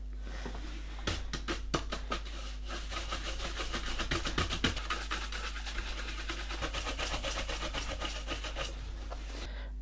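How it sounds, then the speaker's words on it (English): Horsehair brush sweeping across Gucci leather dress boots gives quiet, rapid, rhythmic scratchy strokes in close bursts with short pauses between them. "So we'll brush the excess off with the horsehair brush and see what we're left with."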